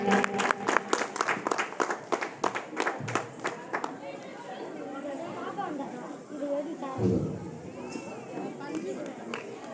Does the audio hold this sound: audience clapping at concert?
yes